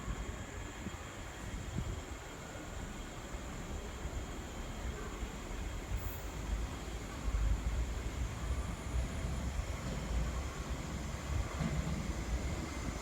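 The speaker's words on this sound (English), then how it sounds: "A non-stop train is passing through the station." Non-stop MTR East Rail line train passing through Sheung Shui station, a faint continuous rushing rumble of wheels and motors across the whole stretch, with no voices.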